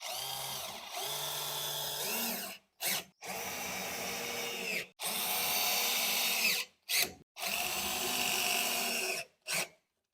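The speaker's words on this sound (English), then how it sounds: "now we just have to screw these little screws to the pre-walls in the wardrobe" Power drill driving small screws into the panels of an IKEA PAX wardrobe during assembly, running in several long whirring bursts broken by short pauses, close and steady with no talking.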